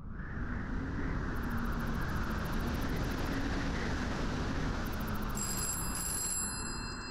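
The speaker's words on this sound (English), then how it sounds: "Just a random telephone." A telephone bell rings in a video game about saving the world from an evil god, bursts of rapid ringing repeating over a steady, loud background rumble with no talking.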